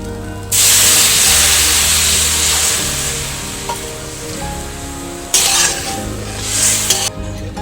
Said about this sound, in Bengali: আমি চালটা 1 থেকে 2 মিনিট নেড়ে জল দিয়ে দেব।